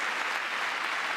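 Dense, steady applause from a crowd at a political speech, a continuous hiss of many hands clapping, loud and close with no gaps or voices.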